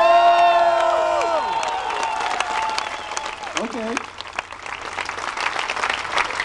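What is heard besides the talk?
audience applause and cheering for a contestant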